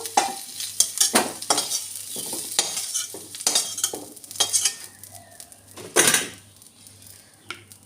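Potatoes fry in hot oil in a pan, a close sizzle punctuated by loud clanks and scrapes of a utensil against the pan, irregular and uneven throughout.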